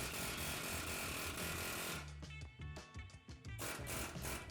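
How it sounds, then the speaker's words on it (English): A chisel is hammered under the flange of a steel shell suspension bush on a control arm. Rapid, harsh metallic impacts sound close and loud, with a short rhythmic stretch of separate hits in the middle. "peel up the flange on either side with a chisel without damaging the control arm"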